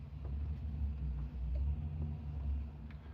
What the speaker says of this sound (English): Must be my neighbor with his Camaro.